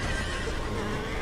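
A horse neighs loudly and close, a single whinny over hoof clatter and scene noise.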